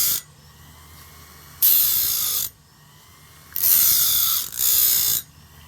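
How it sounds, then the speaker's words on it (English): Homemade bandsaw blade sharpener grinding the teeth of a wood-cutting bandsaw blade, giving three loud, hissing bursts of about a second each, with a quieter low motor whir running between them. "this saw blade sharpener is very low torque, so you can torque it out by just pressing too much"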